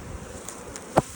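Angry honey bees swarm around a hive full of emergency queen cells during requeening, giving a low, steady buzz with one louder insect passing close by near the end.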